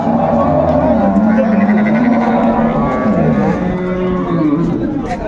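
A cow with her calf at the Raniganj village cattle market lets out long, low, rising and falling moos up close, mixed with constant crowd babble and nearby voices.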